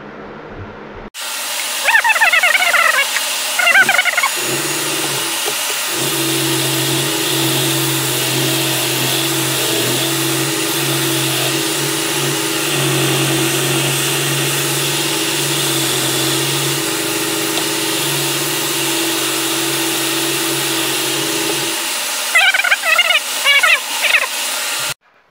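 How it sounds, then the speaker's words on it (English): A steady, droning sanding wheel sands a spalted yellow birch wooden bowl, whirring continuously for about fifteen seconds with a constant hum and broadband hiss, starting and stopping abruptly. "I'm going to grab the sanding wheel"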